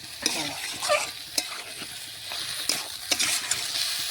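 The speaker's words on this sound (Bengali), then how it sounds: "এখন ভালোভাবে নাড়াচাড়া করে চিকেনটাও দেখুন মশলার সাথে মিশিয়ে নেব।" Chicken being stirred and fried with spices in a pan for a Bengali chicken kosha with potatoes, giving close scraping stirs in irregular bursts over a steady sizzle.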